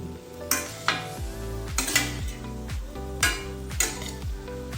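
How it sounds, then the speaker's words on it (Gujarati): Spices being stirred into vegetables in a pan, a spoon scraping and knocking against the metal in a rhythm of about a dozen clacks over a soft sizzle, close and alone. "હવે એને મિક્સ કરી લઈશું"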